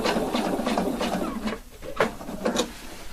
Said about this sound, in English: I like to finish it with the top stitching around the edge